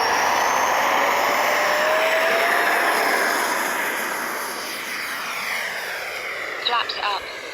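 A twin 64mm electric ducted fan RC MiG-29 jet model takes off on a morning flight, its loud, steady high-pitched roar gradually receding with a slight pitch shift as it climbs away.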